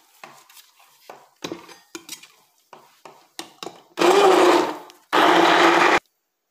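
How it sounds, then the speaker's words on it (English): Orange peel in oil being blended with a stick blender: a series of short clattering taps and knocks, then two loud, dense whirring bursts of about a second each, close and alone without talk. "the next thing I will be doing now is to stick blend this"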